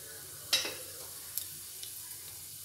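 Cinnamon, cloves and fennel hit hot oil in a pan with a sharp crackle, followed by a soft, low sizzle and a few small pops, fairly quiet and without talk.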